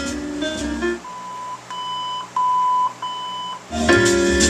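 A series of electronic beeps from an original Bendix radio in a 1965 Volkswagen, several short tones and a longer one, clear and close, with a brief burst of music before and after.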